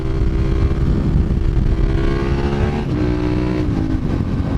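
A 2017 Suzuki SV650 motorcycle engine pulls loudly and steadily through the gears, its drone rising in pitch and then dropping with each shift, with no voices over it.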